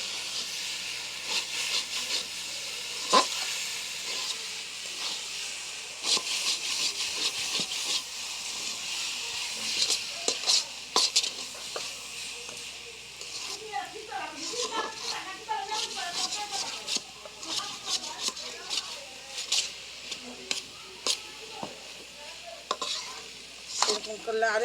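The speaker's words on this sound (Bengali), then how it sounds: "আমি অল্প আঁচে সুন্দর করে ভাজা নিচ্ছি দেখেন" Taro leaves fry in a pan over low heat, giving a steady soft sizzle with scraping stir strokes, while someone talks over the cooking throughout.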